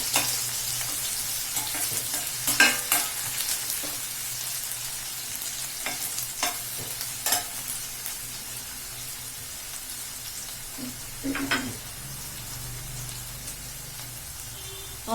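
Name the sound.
onions frying in a pan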